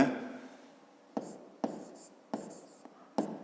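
A pen writes triangle side labels in a school notebook, producing a few short, crisp scratching strokes separated by brief pauses, close and quiet.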